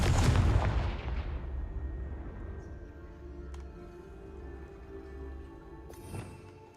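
A Confringo explosion spell in Hogwarts Legacy, one loud booming blast that rumbles and fades over several seconds, with a smaller crack near the end.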